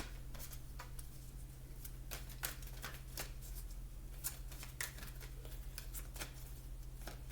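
Oracle cards being shuffled by hand make soft, quiet riffling and sliding bursts that repeat irregularly over a low steady hum, with no talking.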